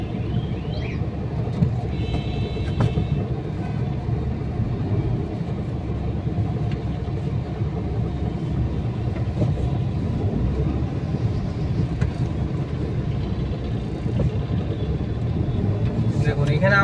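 A car creeps slowly through heavy, crowded traffic among electric rickshaws, giving a continuous low engine and road rumble with no clear breaks and faint horn-like tones in the background.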